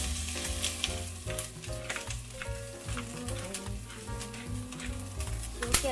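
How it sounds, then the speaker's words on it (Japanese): Garlic chives sizzle and crackle as they are stir-fried in a pan, with steady frying noise and frequent scraping and clattering from stirring, fairly close and fairly quiet. "結構ニラの辛みが強くなっちゃうので、食感を残しつつもしっかりめに炒めます"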